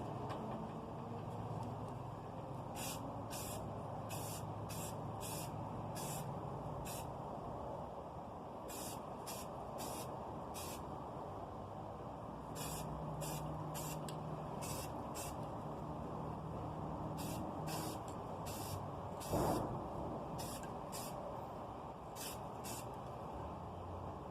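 Spray paint primer is applied to an old Black and Decker Home Utility drill press in repeated short hissing bursts, each lasting under a second, that come in clusters over a steady low background rumble.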